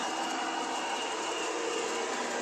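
A CP 9107 model locomotive runs with a steady, even hiss and rumble that holds at a constant level from start to finish, with no pauses.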